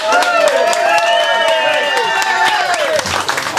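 An audience at a polka show claps loudly and steadily for a performer while band instruments sustain tones underneath.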